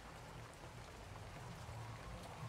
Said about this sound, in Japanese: 雨がしとしとと。